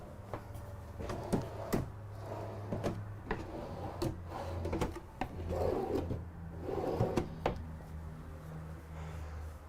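Big deep kitchen drawers in a 2022 Newmar Ventana 4334 motorhome are pulled open and pushed shut, giving a series of sharp wooden clunks and soft sliding rubs nearby.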